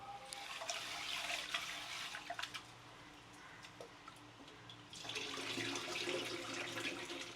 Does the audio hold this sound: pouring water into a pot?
yes